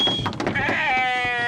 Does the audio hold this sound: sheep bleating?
yes